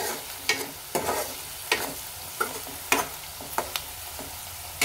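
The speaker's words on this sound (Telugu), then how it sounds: "ఈ పసుపును కూడా మంచిగా కలుపుకుందాం." Bottle gourd curry with a teaspoon of turmeric being stirred in a frying pan: about a dozen short scraping strokes of a spoon against the pan over a soft steady sizzle, close and fairly quiet, with no voices.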